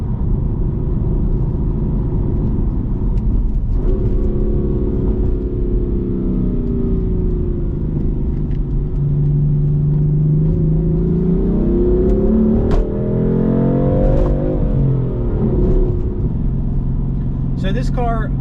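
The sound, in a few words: 2015 BMW F82 M4 driving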